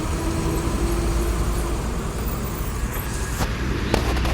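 Dense traffic idles in a jam at a red light, with buses, including tour coaches, among the vehicles; a steady broad engine rumble and road noise, with a couple of brief sharp knocks near the end.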